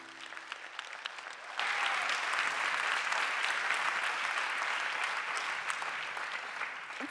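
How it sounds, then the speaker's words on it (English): An audience at an award ceremony claps, first faintly and then swelling into sustained, even applause that continues steadily to the end. "A round of applause for Anastasia, please."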